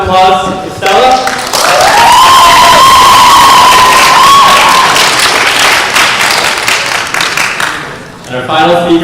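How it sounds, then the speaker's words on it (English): A school auditorium crowd at a speech and debate competition breaks into loud, sustained applause and cheering for a speaker, with whoops and a high sustained shout rising over the clapping before it fades. "And another round of applause to Stella."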